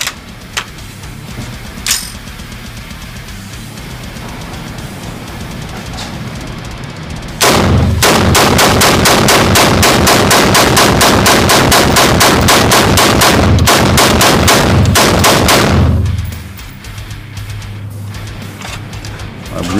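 A pistol test-fired at an outdoor range during a break-in session, sounding as a rapid, loud string of shots for about nine seconds after a few isolated shots, with the pistol's mechanism faintly audible before and after.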